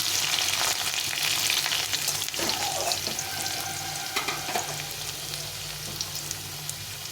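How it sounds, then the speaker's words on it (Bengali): Steady close-up sizzle of potatoes frying in hot oil until reddish-brown for shukto, with a few clinks and stirring scrapes across the middle. "লাল লাল করে ভেজে নিতে হবে।"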